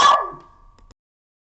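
A single dog's bark sounds indoors at the mail carrier, close and clear, fading into a short tail and a couple of faint clicks before silence.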